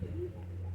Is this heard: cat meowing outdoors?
no